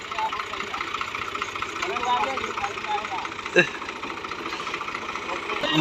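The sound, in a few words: tractor-driven wheat thresher running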